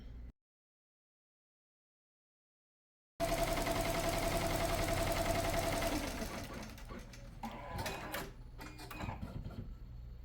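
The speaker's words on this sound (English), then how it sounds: "see how I did the entire first lay down stitch and the machine just stopped?" An embroidery machine sews an applique lay down stitch, a steady loud mechanical whirr that runs for a few seconds after a short silence, then slows and stops with some light clatter.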